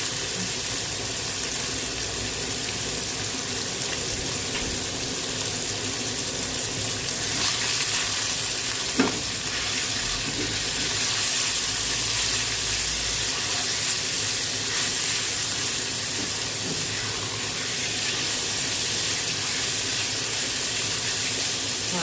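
Beef tenderloin stir-frying in a pan, a steady loud sizzle that carries on without a break, with an occasional faint clink of a utensil and no talking.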